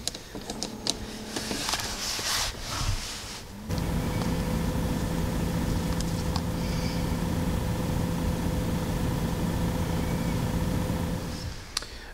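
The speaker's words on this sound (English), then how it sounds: "let's go ahead and turn on the ignition and see what we've got for codes" On a SAAB 9-5 Aero Wagon with check-engine and oil warnings, a few clicks and rustles come before the ignition turns on, followed by a steady, close electrical hum with a faint whine that runs to the end.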